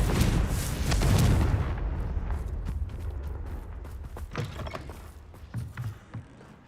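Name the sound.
Confringo fire spell being cast, from the video game Hogwarts Legacy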